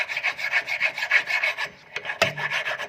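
A hand file scrapes buildup off a 2016-2020 Honda Civic rear brake caliper bracket in rapid rhythmic strokes, close and crisp, with a brief pause and a small clank before the rasping resumes.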